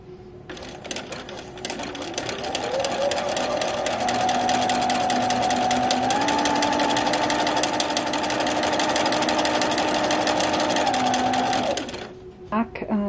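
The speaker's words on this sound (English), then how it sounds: "I'll go ahead and sew about a half an inch in all the way around on these clipped sides" Sewing machine stitching a half-inch seam around the clipped sides of a crochet crossbody boho bag. It starts, holds a fast, even whir for several seconds and shifts pitch slightly once before stopping, close and loud.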